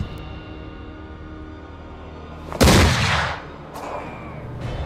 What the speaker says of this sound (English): I just hope this shot hits